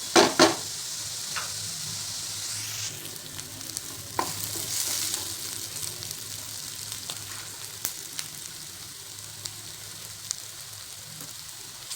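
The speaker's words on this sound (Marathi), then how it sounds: "कांदा छान गोल्डन कलर होईपर्यंत परतून घ्यायचा" Onions sauté in a pan until golden, giving a steady close sizzle with scraping stirs and a few utensil knocks against the metal; an opening clatter is followed by continuous frying.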